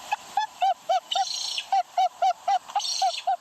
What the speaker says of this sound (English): planting fake ibises that play recordings of their calls